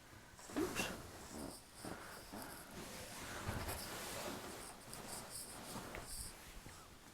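A dog snorts and wheezes close by on a mattress, irregular nasal breaths and snuffles coming in uneven bursts with quiet gaps between them.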